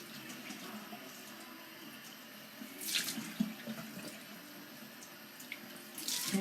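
Warm water runs from a tap into a sink during a face wash, a steady soft flow with brief louder splashes as hands scoop and rinse.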